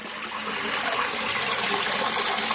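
Water gushes steadily through holes drilled in the side of a box wetland filter for a koi pond, a continuous close splashing rush with no voices.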